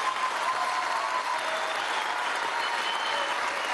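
Steady applause from a large audience honoring Héctor Rodríguez at a workshop gathering of worker commissioners, dense clapping sustained evenly throughout with no voices on top.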